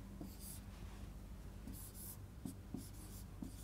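Pen writing down an answer on paper, soft scratchy strokes in short bursts with small taps between them, quiet and close with no voices.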